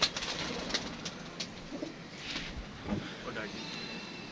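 A pigeon coos softly against a quiet, dark background, a few low murmuring calls with faint rustles in between.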